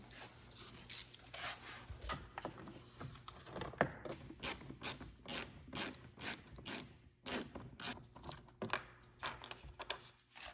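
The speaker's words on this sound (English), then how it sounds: "Gonna unscrew this quickly." A screwdriver backing out a Phillips screw on a car door panel, heard as rapid, regular ratcheting clicks, close but fairly quiet, running steadily for several seconds.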